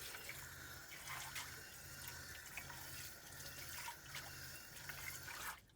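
Kitchen faucet running steadily into a camper sink during dishwashing, with a low rhythmic hum from the camper's water pump pulsing underneath, close and continuous.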